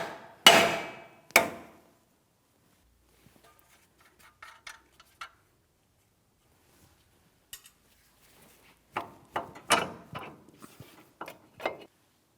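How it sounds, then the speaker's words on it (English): Hammer blows on the steel steering knuckle of a 2007-2014 GMC Sierra 2500 HD to free a stuck outer tie rod end: two loud sharp strikes, then lighter scattered taps and a burst of quick metallic hits, close up. "We're using a hammer for this."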